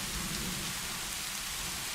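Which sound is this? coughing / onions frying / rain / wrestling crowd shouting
rain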